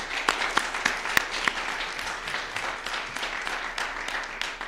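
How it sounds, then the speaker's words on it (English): An audience at a political rally applauds steadily, a crowd of clapping hands with a few sharp, close individual claps standing out over the continuous wash. "Another round of applause"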